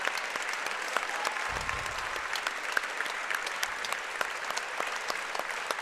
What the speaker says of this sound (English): giving them a round of applause.